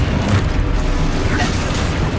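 A deep booming blast from the Expulso spell in Hogwarts Legacy rolls out loudly, with a heavy low rumble and scattered crackling bursts that carry through the whole moment.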